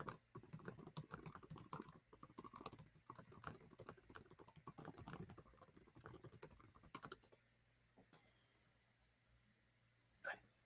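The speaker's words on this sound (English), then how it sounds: "I'm going to quickly type this up." Computer keyboard typed on quickly and loudly at close range for about seven seconds of dense, rapid clicking, then it falls quiet apart from a brief final tap.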